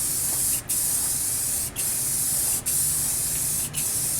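Four short aerosol bursts of black spray paint hiss onto a Burger Time arcade cabinet part during restoration, each loud close spray separated by a brief gap.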